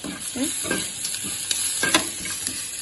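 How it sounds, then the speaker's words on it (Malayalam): Chicken masala with turmeric sautéing in a pan, a steady close sizzle broken by repeated stirring scrapes at an uneven rhythm, with no talking. "കുറച്ച് മഞ്ഞൾപ്പൊടി കൂടി ഇട്ട് കൊടുത്ത് ഇതെല്ലാം വഴറ്റാം."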